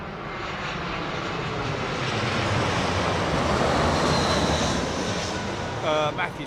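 An Embraer E190 airliner lands on runway 27R at London Heathrow, a loud continuous jet engine roar holding steady throughout and easing slightly near the end.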